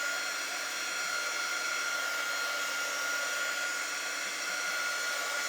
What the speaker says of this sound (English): I'm going to go ahead and dry this just a little bit with my quick dry tool.